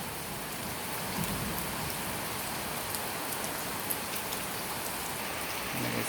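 Heavy rain falling in Laos, a dense steady hiss of drops pattering on surfaces, continuous and even throughout with scattered louder close splashes.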